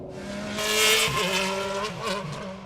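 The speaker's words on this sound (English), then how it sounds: "There's another car coming." Race car on the Bathurst track, a single car approaching and passing with a swelling, gear-shifting engine note that peaks and fades, heard from trackside.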